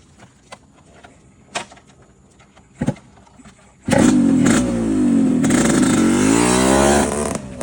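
A motorcycle engine bursts into loud, close revving after a few quiet seconds of scattered knocks and rustles, holding a strong roaring drone with wavering pitch through the rest of the clip.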